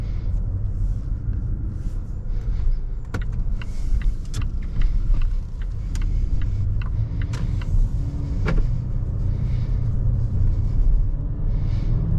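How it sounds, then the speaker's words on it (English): 2024 Volvo S60 B5 AWD driving on a snowy evening in Toronto with freezing rain, a steady low road rumble heard from inside the cabin with occasional faint clicks and ticks. "Let's go for a drive and see what it's like to drive the Volvo S60."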